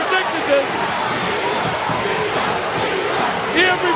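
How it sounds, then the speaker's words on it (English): A boxing arena crowd on its feet cheering, a dense continuous roar of voices with brief shouts rising above it. "Everybody, the entire crowd is on its feet, cheering Ivan."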